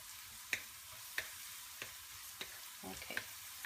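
Okra and potato stir fry for an Indian bhinda dish sizzles quietly in a pan, with soft periodic scrapes and taps as it is stirred roughly every half second, no voices.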